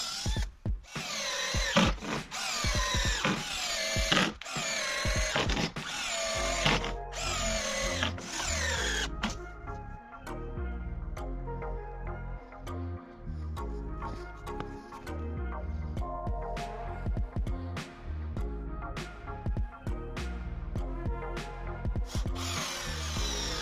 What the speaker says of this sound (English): Then I'll screw these boards down with self-tapping screws.